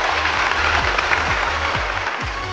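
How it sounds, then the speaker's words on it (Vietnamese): A studio audience at a Vietnamese comedy game show applauds the competing teams with dense, steady, loud clapping and no talk over it. "hãy cùng nhau vỗ tay cho hai đội chơi bước vào vòng thi đấu này"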